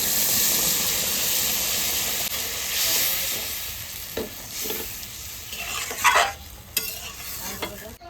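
Water used to rinse the spices is poured into village-style goat meat curry frying in a pan, bringing a loud hissing sizzle that settles into steady bubbling, broken by a few stirring scrapes and clanks.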